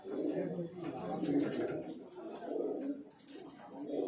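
Pigeons in a highflyer pigeon loft coo in soft, repeated rolling phrases close by, with people talking faintly in the background.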